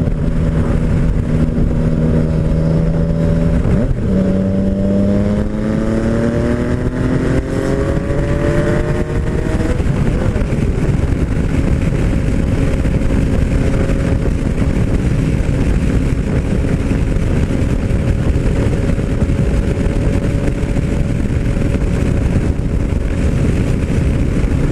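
A Yamaha MT-09 Tracer motorcycle engine revs and accelerates, its tone climbing through several gears in rising sweeps before settling into a steady, loud cruising drone with heavy wind rush.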